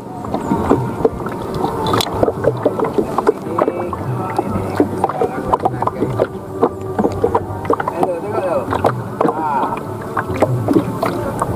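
A boat moving on open water at Lake Tangkas, steady low rumble with splashing and a light breeze, distant voices murmuring throughout.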